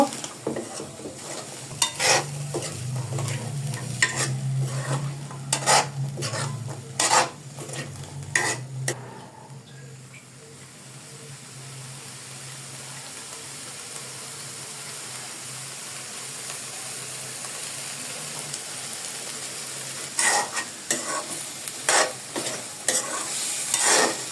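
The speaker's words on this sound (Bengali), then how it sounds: "এখন এই আলুর সঙ্গে ছোলাগুলোকে আবার একটু কষিয়ে নিব" Boiled chickpeas and potatoes sauté in a pan with a soft, continuous sizzle, punctuated by bursts of vigorous stirring and spatula scrapes near the start and again toward the end, close by with no talking.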